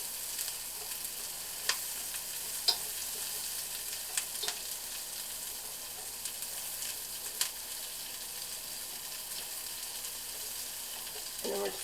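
Onions sizzle and fry in butter in a pan on the stove, a soft steady crackle with occasional sharper pops and scrapes as they are stirred, with no talking.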